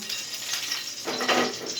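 Oil poured into an already hot pan while making cheese noodles gives a brief rising sizzle and hiss, close and fairly loud, with faint clinks and no talk.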